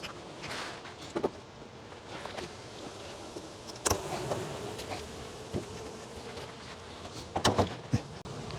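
Bees buzz during a beehive inspection outdoors, a steady hum behind scattered knocks and wooden bumps from the hive boxes and covers being handled, with no talk.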